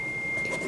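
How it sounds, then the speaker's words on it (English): A steady, thin electronic tone holds unbroken for under a second, faint against a quiet background hiss, like a phone notification sounding nearby. "That was my phone."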